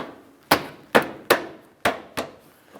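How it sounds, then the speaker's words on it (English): A plastic bumper cover on a 2006-2012 Ford Fusion is pressed onto its mounting points, giving five sharp, separate knocks and snaps spaced about half a second apart, close and without speech. "We'll take that bumper cover, align it properly, and press it into position."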